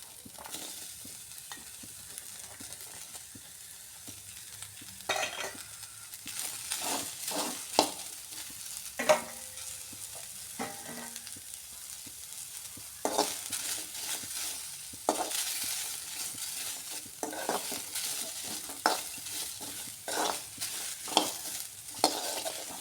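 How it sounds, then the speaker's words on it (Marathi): Grated coconut roasting in a pan, stirred with a spatula over onion and garlic, giving a steady faint sizzle broken by repeated scraping and shuffling strokes, close by with no talk. "खोबरा टाकून तर परत एकदा"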